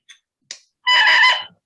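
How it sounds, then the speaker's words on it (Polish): Two short chirps, then a loud, shrill, buzzing squeak from an oboe reed blown alone, lasting about half a second. "to jest taki pisk, który wydaje taki oto mały element, to jest stroik do oboju"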